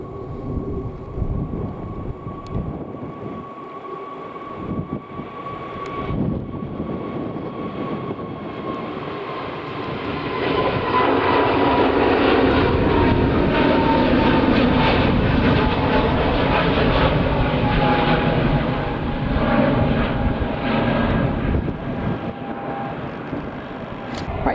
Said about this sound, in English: taking off then is a TAP Express Embraer E190 AR going to Lisbon